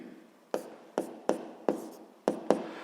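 A pen scratches on paper as a seventh-grade physics exercise is worked out, with six sharp close strokes at irregular intervals, each trailing off into a soft rasp.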